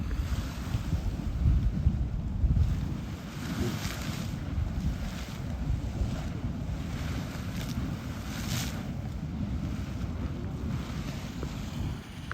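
Grotto Geyser in Yellowstone erupts with a steady, roaring rush of water and steam, gusty wind buffeting the microphone throughout, dense and continuous with no talking.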